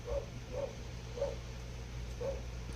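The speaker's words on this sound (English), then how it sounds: "Man, that dog." A dog barks four times in an evenly spaced series of short, muffled woofs that sound some distance away, set over a low steady indoor hum, with no talk.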